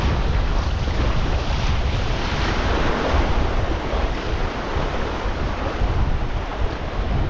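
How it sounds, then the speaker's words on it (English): Sea waves wash continuously onto the secluded beach at Tufu Bay in Lingshui, Hainan, a steady broadband surf roar with some wind buffeting the microphone, no voices. "I'm sure here some of you would just like the sound of the sea"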